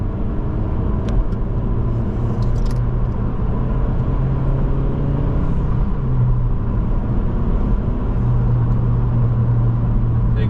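A 2025 Honda Civic Si's 1.5 turbo engine hums and rumbles steadily from inside the cabin on winding backroads, with tire and road noise and subtle shifts in engine pitch as it drives.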